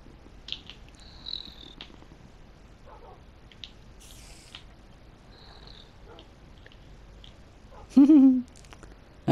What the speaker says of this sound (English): Now it's your cat. Your little baby kitty cat.